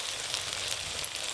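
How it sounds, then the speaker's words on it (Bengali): Whipped sour curd going into a hot, oiled pan of fried spice paste with coriander, giving a steady, close broadband sizzle that holds evenly throughout with no voices. "এবার ফেটিয়ে রাখা টক দই দিয়ে দেব।"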